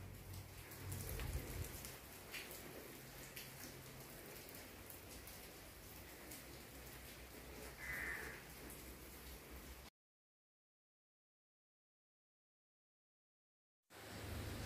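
Steady, faint rain falls outside a village house during a downpour, a soft even patter that runs without a break and then cuts to silence before briefly returning.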